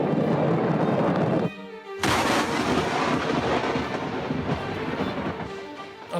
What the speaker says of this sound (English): A bolt of lightning strikes his boat, sending a large spark through the rig